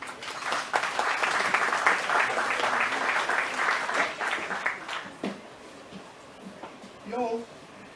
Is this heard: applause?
yes